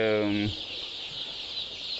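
A Gramapriya hybrid country chicken, an egg-laying breed, gives one short harmonic cluck at the start, then only soft background noise follows.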